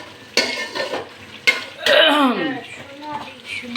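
Spices being sautéed in a pan for chicken curry, with sharp utensil scrapes and clinks over a soft sizzle, while people talk nearby.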